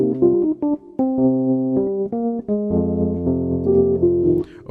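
Piano playing a bossa nova rhythm, syncopated chords and bass notes in short repeated phrases, close and clear with no voices.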